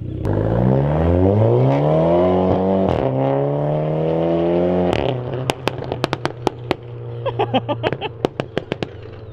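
A heavily modified car's engine revs loudly up through its range, then drops into a rapid series of sharp pops and bangs from the exhaust, close and loud, with the crackles continuing in irregular bursts.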